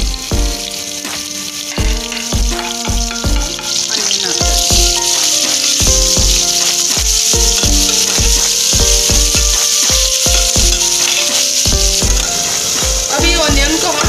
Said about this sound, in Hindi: इसमें चॉप्ड किया हुआ चिली ऐड करेंगे।